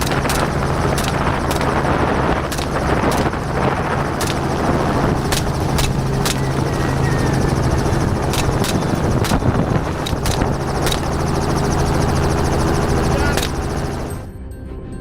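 Helicopter hovering above thick brush, a loud continuous rotor and engine roar with sharp clicking transients, fading out at the very end.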